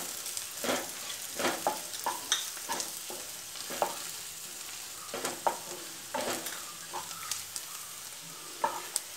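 Fennel seeds frying with onions in a pan for Kerala-style kadala curry, a soft continuous sizzle broken by repeated light stirring clicks and scrapes.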